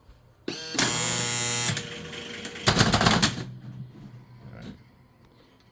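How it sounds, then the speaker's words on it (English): Ball lift motor running in a 1957 Keeney Bowl O Rama bowling arcade machine: two close, loud bursts of harsh mechanical buzzing and rattling, the first about a second long and the second shorter, followed by faint machine hum. "That's the ball lift motor. That's already running."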